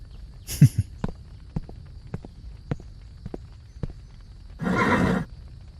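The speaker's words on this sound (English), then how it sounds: "the fastest horse this side of the river" A horse whinnies briefly, then hooves clop in a steady walking rhythm, followed by a longer, louder neigh close by.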